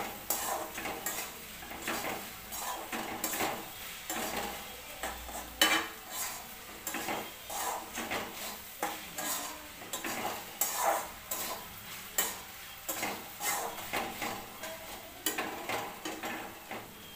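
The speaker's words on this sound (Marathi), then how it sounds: "आणि परत एकदा परतून घ्यायची भाजी चांगली मस्तपैकी." Salted okra (bhindi) gets stir-fried in a pan, a faint sizzle under rhythmic scraping and tapping of a spatula against the metal, stroke after stroke at a steady pace.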